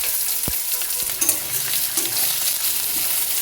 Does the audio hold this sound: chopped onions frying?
yes